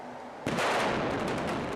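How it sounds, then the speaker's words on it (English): Construction crew's rock blast on a road: a sudden, loud explosion bursts in after a short quiet lead-in, then a heavy rumbling roar with debris noise that carries on to the end. "They're using the power of an explosion to do something useful, in this case, to blast away rock."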